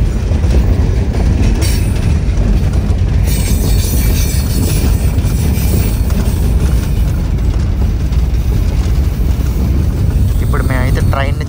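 Riding atop an iron ore train in Mauritania, between Choum and Nouadhibou, gives a loud, constant rumble of rolling wagons with rattling and clatter, and a brief wheel squeal near the end.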